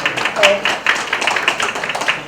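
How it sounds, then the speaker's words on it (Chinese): Applause from a live audience at a restaurant's new-dish launch event, where a mayor acted as guest chef demonstrating Korean cheese pork belly; a steady wash of clapping lasts throughout, fairly loud and dense. "掌声一下吗？"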